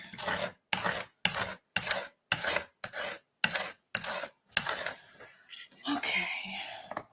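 A hand scraper rasps across a surface in a workshop art project, with about eight short, evenly spaced strokes close up, followed by a softer, longer scrape and a brief faint voice.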